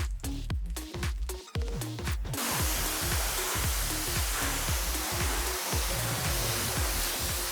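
A high-pressure water jet rinses a car, giving a loud, steady hiss and spray after a few short irregular bursts at the start, continuous and close.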